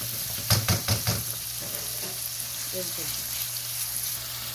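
Food fries in a pan over medium heat for chicken and vegetable fried rice, giving a constant close sizzle. A few quick scraping strokes of a utensil come near the start, and a voice speaks faintly in places.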